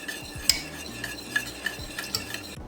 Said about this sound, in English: mix until the butter is melted